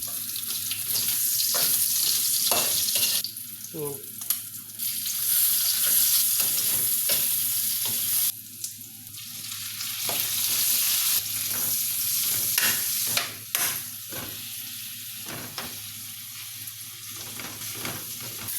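Onions sizzle and fry in a pan, a loud, steady hiss broken by scraping stir strokes and brief pauses, with no voices.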